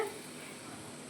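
Dahi vada fritters fry in hot oil with a faint, even sizzle that carries on steadily through a brief moment.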